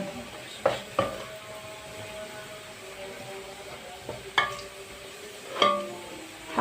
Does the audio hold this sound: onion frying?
yes